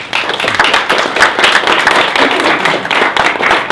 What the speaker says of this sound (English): So I'd like to give all three of them a massive round of applause.